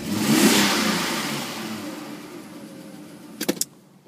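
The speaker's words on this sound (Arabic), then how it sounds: "هي ايسونس بصح عندها الحس تاع ديزل" A car engine with a diesel-like sound revs loudly and close at the start, then winds down to a fading hum, with a few sharp clicks near the end.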